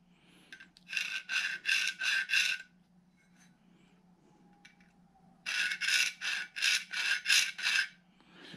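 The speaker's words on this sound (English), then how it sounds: "I'm going to run the calipers along the edge, and I'm going to scribe" Calipers scribe along the edge of a pad in two bursts of about four quick back-and-forth rasping strokes each, with a quiet pause between them and a low steady hum underneath.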